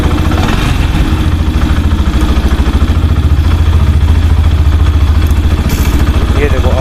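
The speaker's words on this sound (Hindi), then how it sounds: "तो ये भाई ABS की आवाज़ है" A Yamaha FZ-S V4 motorcycle running at start-up with a loud, steady mechanical engine clatter and buzzing hum close by, continuous throughout with no clear separate ABS sound.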